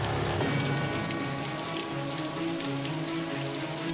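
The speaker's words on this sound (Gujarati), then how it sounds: "ક્યાંક ધોધમાર તો ક્યાંક ધીમીધારે વરસાદનું આગમન થયું" Steady rain falls during a monsoon shower in Dahod, Gujarat, a dense, even hiss of drops striking surfaces that holds at a constant moderate level throughout, with no voices.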